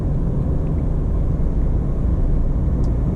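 A steady, low droning boxer engine rumble from a 2024 Subaru Crosstrek Wilderness at low revs, continuous and even throughout, with no talking.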